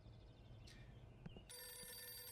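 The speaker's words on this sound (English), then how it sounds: "So answer the phone." A telephone rings in the video game Bright Lights of Svetlov, a faint electronic tone over quiet low ambience with a few soft clicks, then a steady bright ring pattern taking over.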